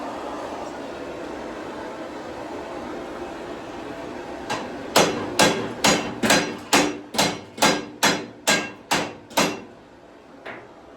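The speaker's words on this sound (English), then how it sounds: "I'm going to try and get it while it's still hot with the hammer in there" A hammer strikes a hot metal tractor part, about a dozen sharp ringing blows in an even rhythm, close and loud, after a few seconds of low background noise.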